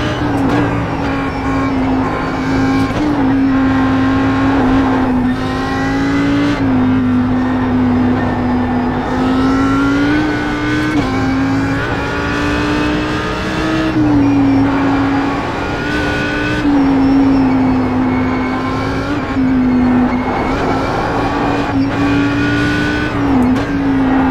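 Audi R8 LMS GT3 race car in iRacing lapping the Nordschleife, its engine droning loudly and constantly, pitch rising through the gears and dropping on repeated downshifts, with occasional faint tire noise.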